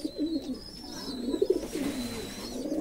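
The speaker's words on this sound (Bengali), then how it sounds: "এই যে আমার সে পাকিস্তানি কবুতরটা" A Pakistani pigeon coos steadily in a pigeon house, its low rolling calls repeating close by with faint chirps from other birds in the background.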